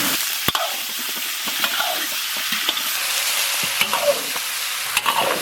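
Oxtail stir-frying in oil in a wok with scallion, ginger and Sichuan peppercorn, a loud, dense sizzle with scattered sharp spatula knocks against the metal.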